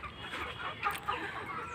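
Chickens on a poultry farm cluck faintly in the background, with a few soft, scattered calls over a low, steady hum.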